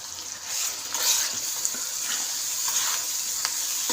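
Soaked masoor lentils are sautéed in a spicy masala, giving a steady, close sizzle with soft scraping and stirring clicks throughout.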